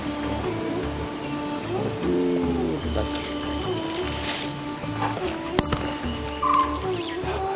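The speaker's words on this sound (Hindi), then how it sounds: "ध्यान से सुनो बस, पक्षियों की चहचहाट, आपस में बात कर रहे हैं" Birds chirp and call among the trees of Lalbagh Botanical Garden in Bangalore, their short tweets scattered over a steady outdoor background hum, moderately near and not loud.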